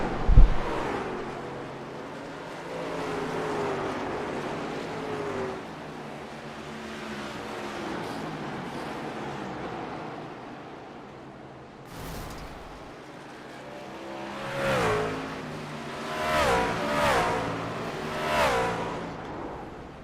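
Race trucks roar past at Nashville, engines rising and falling as cars pass by, with a cluster of loud close passes in the later seconds and a sharp burst near the middle.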